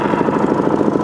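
A Gen II four-stroke dirt bike engine idles low after starting, a steady, loud, close putter with a quick even rhythm and a slight mechanical clatter, with no talk over it.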